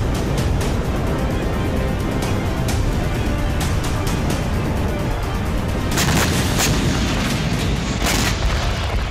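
Gunfire and artillery fire at the Lebanon border, heard as a dense, loud continuous roar of booms and bursts, with sharper blasts clustering toward the end.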